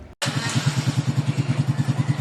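A Suzuki Raider J FI 115 motorcycle engine, just repaired after a conrod failure, fires up and settles into a loud, steady idle with a rapid, even pulsing beat, close by and with no talking.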